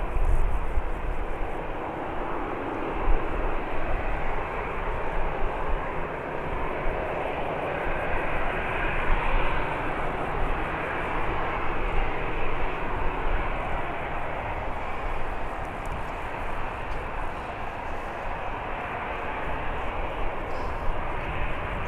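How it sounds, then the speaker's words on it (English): Old helicopter flying near Birmingham Airport, a continuous broadband engine and rotor roar that holds steady at moderate loudness for the whole stretch, with no talk over it. "The old helicopter's making a bit of a racket today"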